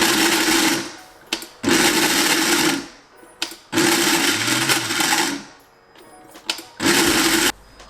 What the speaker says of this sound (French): tu devras le mettre soit dans un robot ou soit comme moi dans un blender